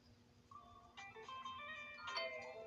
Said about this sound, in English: And the phone just chimed in.